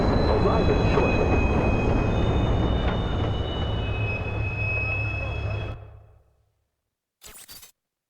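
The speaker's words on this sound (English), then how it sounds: "Southbound train arriving shortly." A train rumbles into a station in the video game Watch Dogs, with a loud, steady roar and faint wheel squeal that fades out after about six seconds. A brief noise burst follows near the end.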